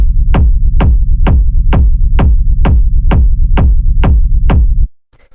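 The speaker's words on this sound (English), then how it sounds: "After that, we have the kick, which sounds like this." Rumble kick drum sample for a techno track: eleven heavy, booming kicks on a steady four-on-the-floor pulse with a low rumbling tail between hits, loud and alone, then cutting off abruptly.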